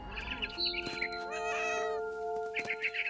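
A cat meows in the video game What Remains of Edith Finch, several tonal meows and caterwauling cries close up, mixed with bird chirps and sustained ambient game music tones.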